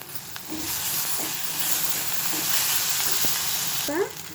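Ginger garlic paste sizzling and frying with onions in a pan, a steady loud hiss with occasional stirring scrapes and clinks, no voices.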